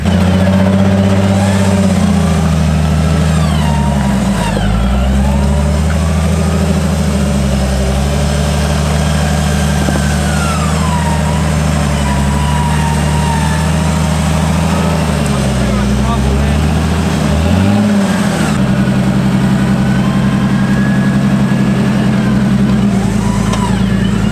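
A Jeep engine on a rocky off-road track rumbles loud and near as it works over a rock, the low drone rising and falling with revs, with people talking over it throughout.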